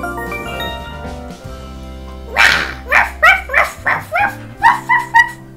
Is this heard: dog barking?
yes